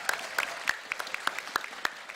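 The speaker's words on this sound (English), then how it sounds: "Give a round of applause for these guys because they are awesome" Small audience clapping at a Rainbow Six Siege event, with distinct hand claps in a quick irregular rhythm, fairly close and moderate in volume.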